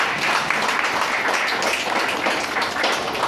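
Audience applause at a Ram Navami festival gathering in Mumbai, greeting the unveiling of a QR code: dense, steady clapping from a crowd that fills the whole stretch at an even level.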